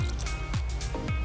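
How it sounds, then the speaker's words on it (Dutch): A mixed cocktail is poured into a glass at close range, giving short wet gurgling glugs in quick succession over a low liquid splash. "Vervolgens gieten we alles in het glas."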